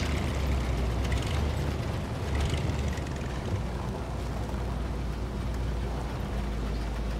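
An Imandra Loadstar heavy recovery truck engine in SnowRunner idles with a steady low putt-putt rumble, heavy bass drone running continuously and close, with no talk.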